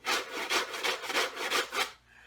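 Rough scraping strokes across the coarse-sandpapered wooden surface of a ukulele stompbox, about eight rhythmic back-and-forth rubs, close and fairly loud, ending in quiet.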